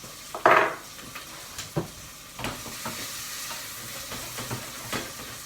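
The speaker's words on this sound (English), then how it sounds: "Let that fry away." Onions fry in oil and a knob of butter in a pan, a soft steady sizzle under repeated wooden stirring knocks and scrapes, with one sharper clatter early on.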